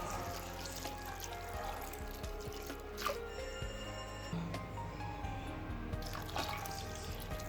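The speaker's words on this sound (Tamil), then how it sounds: "கொஞ்சம் தண்ணி ஊற்றலாம்." Water is poured into mutton in a pressure cooker, giving soft splashing and dripping at low volume, with scattered clinks and small kitchen noises around it.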